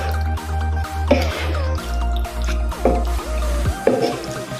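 Wet, squishy hand-mixing of spice paste and white oil into raw chicken, soft sticky squelches over a steady low background hum.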